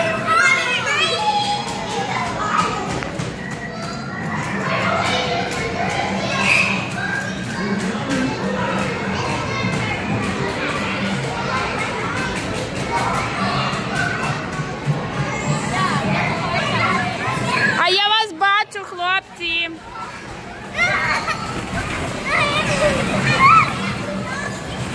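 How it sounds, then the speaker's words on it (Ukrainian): Children shout and play throughout a busy indoor play centre, many voices overlapping in a loud, reverberant din, with one sharp rising shriek near the end standing out from the steady crowd noise. "Чую, кричать Деніал, Деніал!"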